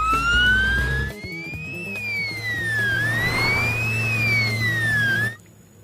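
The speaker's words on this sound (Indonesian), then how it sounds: "Widih, ternyata ada mobil ambulans." A toy ambulance gives off a loud electronic siren that sweeps slowly up and down in a wailing pattern over a steady hum, lasting about five seconds before cutting off.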